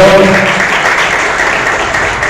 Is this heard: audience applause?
yes